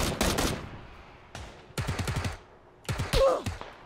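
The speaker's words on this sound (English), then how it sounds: "I'm getting shot from the hill." Gunfire in PUBG cracks out in several rapid bursts separated by short pauses, each rattle sharp and fairly close, with no voices over it.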